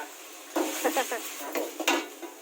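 Southern Thai curry paste with chicken liver stir-fried in a pan, with a soft sizzle under several close scrapes and clinks of a utensil against the metal.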